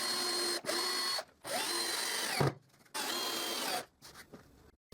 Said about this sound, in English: I align it there, and I screw it.